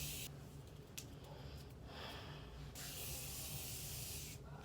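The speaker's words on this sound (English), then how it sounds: "I'm using the Morphe setting spray. And I like a lot, so excuse me while I set my face." Morphe setting spray misted onto a face in a few soft airy bursts, close and gentle, with quiet pauses between the sprays.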